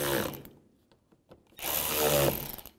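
On a 2003–10 BMW X3, a power tool tightens panel fasteners in two short, close bursts of whirring drive separated by a pause.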